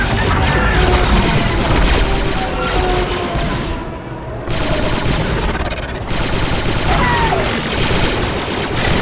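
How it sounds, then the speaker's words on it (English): Rapid blaster and rifle fire crackles almost nonstop in the Star Wars Republic Commando video game, loud and dense with brief lulls, while squad voices call out over the shooting. "You got one, 3-8. Target down. Good shooting, Delta."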